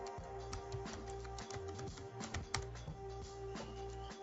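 Quiet typing on a computer keyboard in a home trading setup: irregular bursts of light, close key clicks with brief pauses between them, and no talk.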